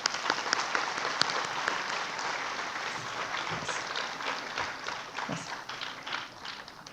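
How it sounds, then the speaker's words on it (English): Audience applauding volunteers at an inauguration on a Bengaluru campus, a sustained wash of many hands clapping, fairly faint and distant, continuing steadily to the end. "I'd like you to give them a big round of applause"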